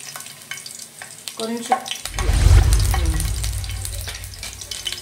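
Finely chopped garlic drops into hot oil in a pan and breaks into a loud, steady sizzle that carries on to the end, with a brief voice just before.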